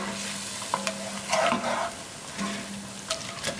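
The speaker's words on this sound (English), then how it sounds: "I'm going to pour it right into the pot. This is going to steam up and help to kind of deglaze the pan a little bit." Liquid poured into a hot pot to deglaze the pan after browning oxtail, a steady sizzling hiss with a couple of short louder surges, no voices.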